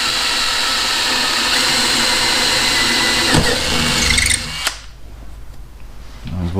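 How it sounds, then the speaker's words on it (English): A power drill bores a hole in a Viking trunk during tail light installation, a steady loud whine running for several seconds before cutting off abruptly, leaving quieter handling noise behind. "Drill a hole right here."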